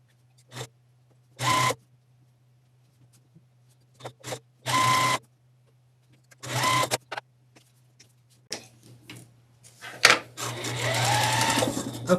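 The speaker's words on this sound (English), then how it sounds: "flip these over and then sew them with a 1/4 inch seam" A sewing machine stitches quilt pieces with a 1/4 inch seam in short bursts of rapid needle whirring, separated by silent pauses, with a longer continuous run at the end; no talking.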